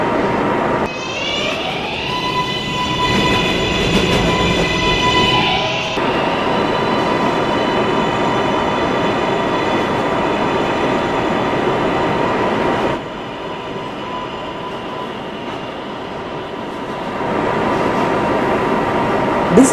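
New York City subway 7 train running toward Kennedy-Main St, with a loud steady rumble of wheels and motor, whining tonal hums in the first seconds, and a brief drop in level partway through.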